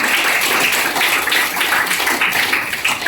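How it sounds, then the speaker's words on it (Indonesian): Applause from a school class crowd during an open lesson, a steady dense wash of many hands clapping together, loud and continuous for about three seconds. "tepuk tangan dulu untuk semua"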